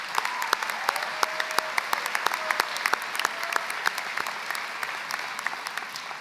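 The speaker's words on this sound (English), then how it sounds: "Give yourselves another round of applause." Applause from a college commencement ceremony audience, a dense patter of many hands clapping steadily and moderately close, tapering slightly toward the end.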